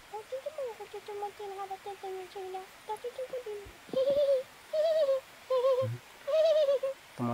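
Maya sparrows call in a series of short, bright chirps, starting as quick repeated notes and then turning into longer rising calls. The calls are moderately near and there is no talking.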